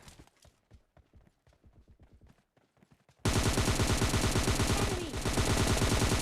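PUBG Mobile Lite gameplay in which scattered footsteps give way to a dense, loud, sustained burst of automatic gunfire that fills the last half, with no speech.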